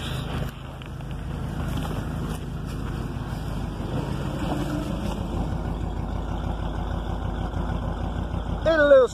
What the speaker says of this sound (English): Let's see what it sounds like at the exhaust pipe.